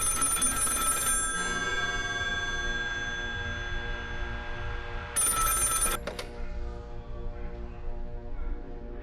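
A telephone rings in two bursts separated by a pause, loud and close with a bright trilling tone over a murky background, with no one speaking.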